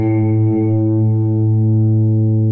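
A sustained harmonic tone, likely an instrument, runs through a DigiTech Polara stereo reverb pedal with the reverb level turned up high, holding steady and wet with a long, smooth tail and no break.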